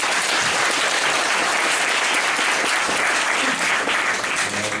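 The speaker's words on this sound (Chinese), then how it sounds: "大家热烈掌声好" An audience at an indoor talk breaks into dense, steady applause that stays loud and continuous throughout, with no voices over it.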